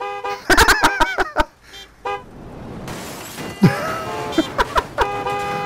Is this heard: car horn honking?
yes